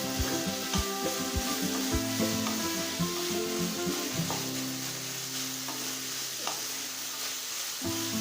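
Tomatoes and shallots sauté in a pan for onion chutney, producing a steady, loud sizzle and crackle with a few clanking stirs near the start and again near the end, heard on its own without any voices.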